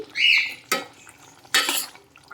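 Pumpkin curry gets stirred in a cooking pot, with two short scraping, clattering strokes of a utensil against the metal between quiet pauses, close and fairly loud.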